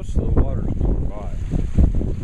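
Water rushes past an irrigation turnout in a continuous, windy-sounding wash, with a voice speaking faintly over the flow.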